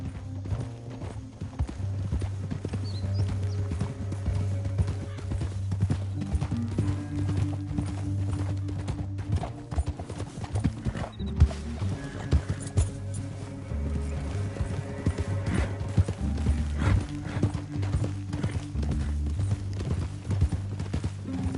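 Horse hooves clip-clopping in Red Dead Redemption 2, a steady rhythmic trotting beat that continues throughout, with low engine-like ambience underneath and brief snorts.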